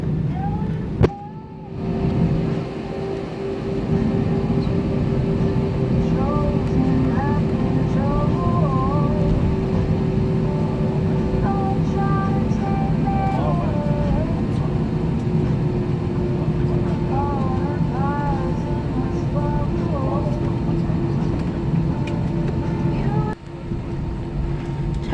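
An Air New Zealand NZ412 aircraft takes off on runway 34 at Wellington, a loud, steady engine roar with whining tones that builds after a brief quieter moment and holds throughout.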